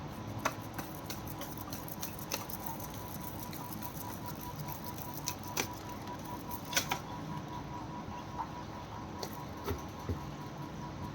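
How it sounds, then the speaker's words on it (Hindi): Tarot cards are shuffled close up in a quiet room, making soft continuous papery patter with scattered sharper ticks and slaps, faint and steady with no talking. "This is my last shuffle, angels."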